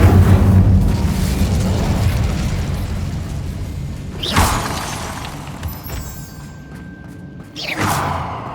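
An Incendio fire spell in Hogwarts Legacy, a video game: two loud, close bursts of flame about three seconds apart, each a sudden whooshing boom fading quickly, over a rumbling ambient background.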